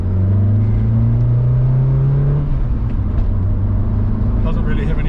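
An AWD turbo Honda Shuttle pulls away, its engine droning loud and close as it rises then settles into a steady rumble, with a voice talking over it.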